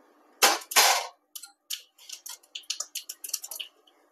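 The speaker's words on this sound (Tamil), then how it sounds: "கடுகு பொரிஞ்சு வரட்டும். இப்போ கடுகு வெடிச்சிருச்சு." Mustard seeds splutter and pop in hot oil while tempering for thattu idli, starting with two loud bursts followed by a rapid irregular series of sharp crackles close by, with no talking.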